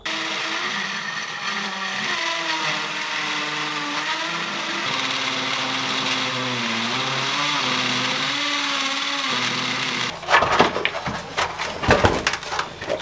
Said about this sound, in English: So I'm gonna start drilling.